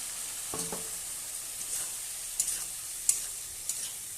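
Cut potatoes are fried in spice masala in a pan, giving a continuous hiss of sizzling oil with a few soft spatula scrapes and clicks.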